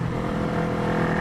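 Honda CB360 motorcycle engine revving hard near 10,000 rpm while ridden, a loud, steady, close mechanical drone with dense harmonic buzz and no pauses.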